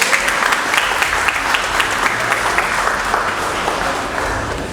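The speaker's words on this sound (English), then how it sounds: "Can you give me a round of applause for yourself?" An audience at a book launch claps in a sustained, dense round of applause that holds steady for several seconds and fades slightly toward the end.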